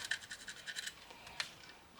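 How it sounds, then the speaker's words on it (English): A pencil scratches across a wooden workpiece as it is marked for a biscuit jointer, giving a quick run of soft, close scratchy strokes followed by one brief sharper stroke, all faint and with no talk. "I'll mark it up with a pencil"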